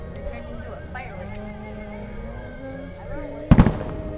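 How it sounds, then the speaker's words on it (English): Fourth of July fireworks burst with a sudden loud crackling bang late on, after a stretch of lower rumbling and chatter, with people talking throughout. "It turned into a firework."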